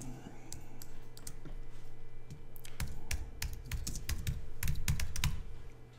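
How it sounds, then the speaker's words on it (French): Rapid clicking keystrokes on a computer keyboard, close and clear, start sparse then build into a steady burst of typing as a magazine name is entered into design software. "Et je vais taper le nom du magazine."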